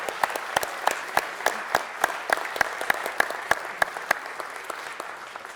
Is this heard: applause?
yes